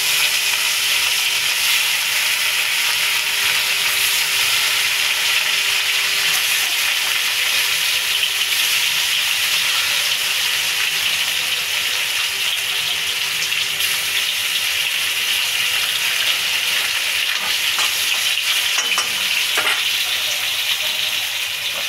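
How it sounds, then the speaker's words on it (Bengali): Rohu fish frying in hot oil for a kaliya curry, a steady, loud, continuous sizzle and crackle that holds evenly for the whole stretch, with no talking over it. "তেল গরম হয়ে গেছে, মাছটা ছেড়ে দিলাম।"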